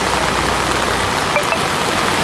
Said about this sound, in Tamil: கொடைக்கானல் மற்றும் அதன் சுற்றுவட்டார பகுதிகளிலும் கனமழை பெய்தது.